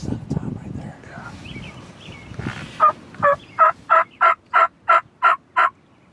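A wild turkey in the Michigan spring woods lets out a loud, close gobble, followed by about nine evenly spaced calls in a steady rhythm, with low voices talking near the start.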